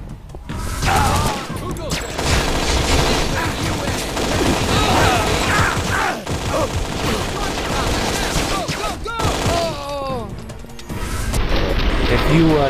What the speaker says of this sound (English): You charge shot with the MP5, it's automatic